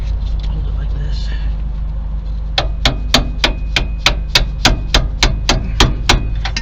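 A metal punch tapped against a brake arm, a run of about fifteen evenly spaced sharp metallic taps close by, over a low steady background hum.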